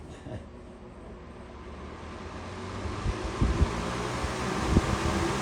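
A Dayton box fan running at medium speed gives a steady broadband whooshing rush of air with buffeting wind noise against the microphone, growing slightly louder, no speech.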